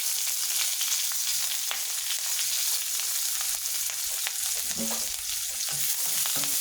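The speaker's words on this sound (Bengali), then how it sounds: "তেলটা আমার গরম হয়ে গেছে দিয়ে দিলাম এখানে রসুন কাঁচামরিচ আর পেঁয়াজ কাটা" Garlic, green chillies and chopped onion fry in hot white oil, giving a steady, close sizzle with faint stirring clatter throughout and no talking.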